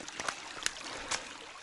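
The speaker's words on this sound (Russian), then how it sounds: "ручей такой классный" A small forest stream runs with a soft, steady burble and trickle, faint and continuous with a few light splashes.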